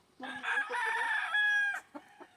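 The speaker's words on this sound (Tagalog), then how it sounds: "Dinala na nila ang manok dun sa tapat." A rooster crows loudly nearby in one long drawn-out call, followed by a couple of short clucks.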